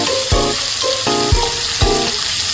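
Gongura (sorrel) leaves frying in hot oil for mutton gongura, a continuous loud sizzle broken by four sharp clanks of a spoon stirring against the pan.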